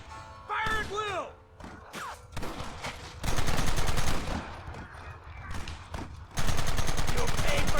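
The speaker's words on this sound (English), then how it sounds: "Targets on the horizon! Fire at will!" Gunfire in the Western video game Red Dead Redemption: rapid bursts and single shots crackle over a noisy battle, with shouted voices and a whistling tone early on, growing denser and louder toward the end.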